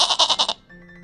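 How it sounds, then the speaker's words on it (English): A goat bleats once in a quick, wavering series of pulses, loud and close, then falls to near silence with a faint tone. "The sound of goats."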